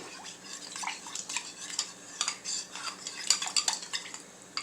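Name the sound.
mixing sauce with brown sugar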